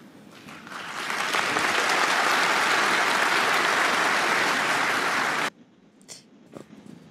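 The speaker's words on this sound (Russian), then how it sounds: "Можно больше аплодисментов?" Studio audience applause on a Russian political talk show, a full, dense wash of clapping that swells in, holds steady for several seconds and then cuts off abruptly, followed by faint scattered sounds.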